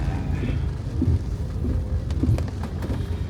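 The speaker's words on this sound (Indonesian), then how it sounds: "cuaca di Legian sekarang ini lagi hujan ya." Steady rain falling in Legian, Bali, a constant broadband hiss with low rumble, fairly close and continuous, with no talk.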